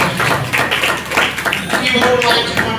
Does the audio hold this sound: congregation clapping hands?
yes